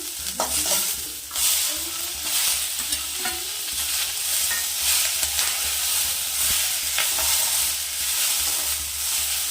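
Tomatoes fry in a pan while being stirred, a steady loud sizzle and hiss broken by scraping stirs, close up and without speech.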